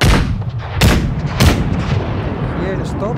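Several sharp gunshot cracks ring out over a low rumble in the video game Napoleon: Total War, with brief voices speaking between the shots.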